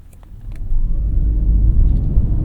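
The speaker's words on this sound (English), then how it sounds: "let me see how this thing takes off in EV mode." A 2023 Honda Accord Sport Hybrid, roughly 3,500 pounds, pulls away in EV mode with a low, steady road and drivetrain rumble that swells after the first half-second and holds, close and fairly loud, with no talking.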